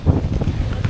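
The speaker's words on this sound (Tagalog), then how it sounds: "Mamaya malakas kasi masyado yung hangin." Strong wind buffets the microphone on a boat fishing at sea during the amihan monsoon, a steady low rumble with gusty surges throughout, no talk.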